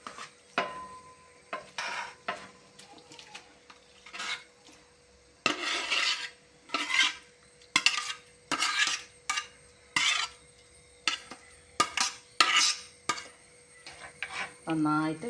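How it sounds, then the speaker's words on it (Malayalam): Rice ada stirred into boiling jaggery in a pot for pradhaman, a ladle scraping and rasping in repeated bursts of strokes over a quiet steady hum, with brief pauses between strokes and no talking. "നന്നായിട്ട് ഇളക്കി കൊടുക്കാം."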